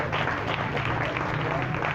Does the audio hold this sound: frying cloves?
no